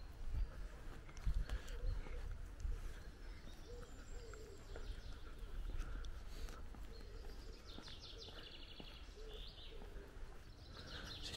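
A pigeon coos among lodges in the Center Parcs Whinfell Forest holiday village, soft and intermittent against steady outdoor ambience, with a few other bird chirps and some background talk.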